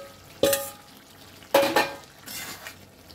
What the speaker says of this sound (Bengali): এখন আমি চিংড়ি মাছগুলো দিয়ে দেব।